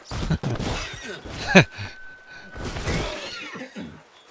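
A horse in the video game Red Dead Redemption 2 gives a short, strained whinny and snorting breaths, with a few bumps and scuffs around it, fairly close.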